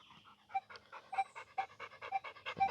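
A metal detector searching for a buried dime in a test garden, giving a string of short, faint squeaky tones at a steady rhythm over soft scraping and swishing noise.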